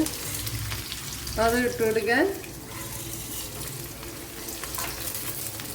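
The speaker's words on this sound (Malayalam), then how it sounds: "ഇത്രയും നല്ലവണ്ണം ഒന്ന് മൂപ്പിച്ചെടുക്കണം" Garlic, green chillies and urad dal fry in oil for a beetroot dish, giving a steady close hiss of sizzling. A brief tonal voice-like sound rises over it midway.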